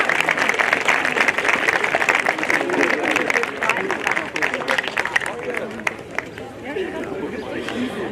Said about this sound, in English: So please give a round of applause to Zaraya Tovia.